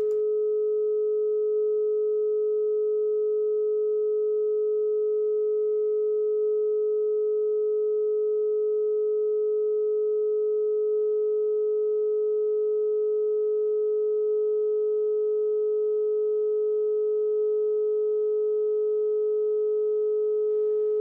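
A loudspeaker plays a steady sine tone into an acoustic resonator in a demonstration setup, giving one continuous pure pitch with faint overtones that holds at constant level, unbroken and alone.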